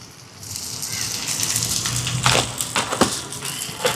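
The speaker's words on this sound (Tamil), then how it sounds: "வதங்குறதுக்குள்ள சம்பல் அடிப்போம் மிளகாயை சேர்ப்போம் கொஞ்சமாக உப்பு சேர்ப்பான்" Chillies and salt pounded for Jaffna-style coconut sambal, giving a series of dull, crunchy pestle strikes that build into a steady rhythm with sharper hits near the end, fairly close and alone.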